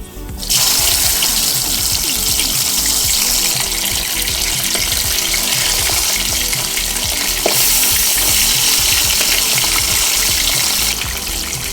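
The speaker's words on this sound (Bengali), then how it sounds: "মিডিয়াম হাই ফ্লেমে উল্টে পাল্টে মাছ ভেজে নেব" Pabda fish frying in hot mustard oil in a wok over a medium-high flame, a steady loud sizzle filling the whole stretch with scattered pops and crackles and no voices.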